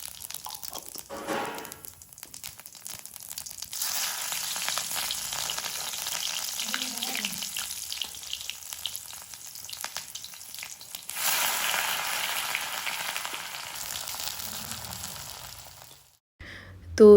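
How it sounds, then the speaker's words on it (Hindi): Asafoetida, cumin, onion and peas fry in hot oil in a wok, a steady close sizzle running for most of the clip with a brief lull and a louder burst near the end. "कढ़ाई में तेल डाल दिया है, गरम हो गया तो हींग, जीरा, प्याज और ये मटर हमने डाल दी है।"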